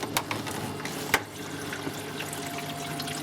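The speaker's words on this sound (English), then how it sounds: "the water is rushing down, coming down from the tank." Water rushes steadily down from a fish tank into its filter during maintenance, a close, continuous flowing wash with a few small splashes and clicks.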